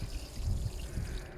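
Water trickles and pours steadily onto freshly sown seeds in a pot of soil, a soft continuous stream heard close and alone.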